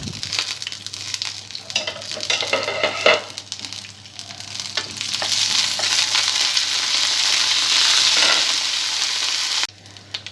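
Dried red chillies, garlic and curry leaves fry in hot oil as a tempering for a tindora and onion fry, giving a loud, crackling sizzle that swells steadily, peaks, then cuts off abruptly near the end.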